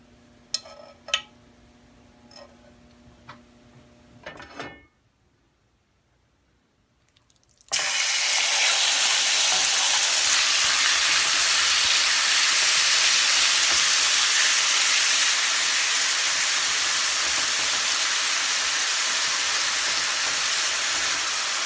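Oil in a pan gives a few pops and clicks, goes nearly quiet, then breaks into a loud, steady sizzling hiss as food is added to fry and keeps going evenly.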